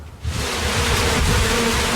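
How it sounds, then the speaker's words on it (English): A swarm of bees buzzes loudly and continuously at close range, starting abruptly after a brief quiet moment and holding a dense, steady drone. "These pollinators are really critical to the balance and the health of the ecosystems. Bees."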